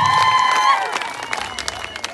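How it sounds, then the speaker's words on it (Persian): Audience clapping and cheering at an exam results announcement for a girls' fourth-grade class, a dense burst of applause that fades through the short stretch. "تشویق کنید"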